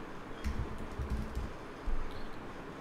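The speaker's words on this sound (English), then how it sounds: "I'm opening a terminal and just type here sudo" Keys on a computer keyboard tapped in a short burst of uneven clicks while a terminal command is entered, close and moderately loud, with a slightly heavier stroke near the end.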